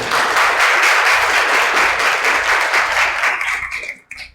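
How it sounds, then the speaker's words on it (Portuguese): An academic conference audience applauds as a professor is invited to the stage, a loud, dense burst of many hands clapping steadily before it thins out and stops abruptly. "Uma salva de palmas, por favor."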